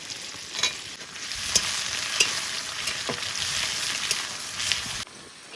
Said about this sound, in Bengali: পেঁয়াজ হালকা করে একটু ভেজে নিয়েছি।